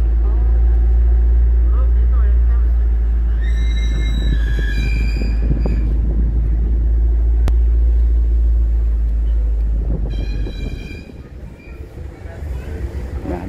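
A free shuttle car ride to the parking near GWK in Bali: a loud, steady engine rumble and road noise fill the cabin, with voices talking over it and the drone easing toward the end.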